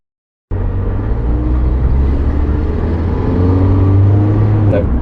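A Mazda MX5 Miata driving on the road to its MOT test: a steady, loud low engine drone heard from inside the car, holding one gear with a slight swell and no talking.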